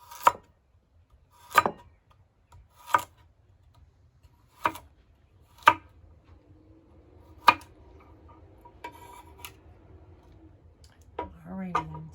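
A knife chops the last carrot on a cutting board, about seven sharp, well-spaced knocks over quiet room tone, followed by faint handling noises and a short rattle at the end.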